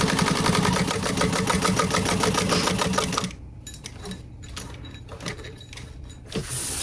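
A sewing machine runs fast and close while stitching across a pool tote bag, a loud continuous mechanical whir for about three seconds, then stops, leaving only soft handling clicks and fabric rustles.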